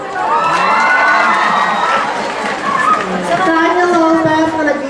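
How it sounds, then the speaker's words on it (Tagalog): A crowd at a Miss Gay pageant cheers and screams loudly for a guest's entrance, high excited shouts and whoops overlapping continuously with only a little clapping beneath. "sabay-sabay po natin palakpakan at hiyawan, binibining Sanya Lopez"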